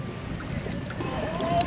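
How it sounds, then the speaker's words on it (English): Wind gusts across open water around a small boat at anchor, a low steady rushing with microphone buffeting and faint water movement, no voices. "It's starting to get windy here."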